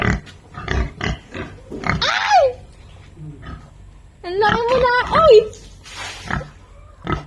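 Pigs on a farm grunt and squeal close by in several loud bursts, one sharp squeal rising over the rest, while a person talks and exclaims between them.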